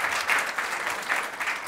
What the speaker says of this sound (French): On l'applaudit absolument.